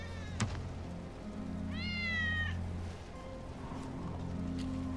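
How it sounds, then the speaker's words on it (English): A single clear meow from Wedge's cat in Final Fantasy 7 Remake rises out of a quiet droning background, with a sharp click just before it. "That's Wedge's cat."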